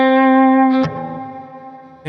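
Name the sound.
electric guitar with effects playing open C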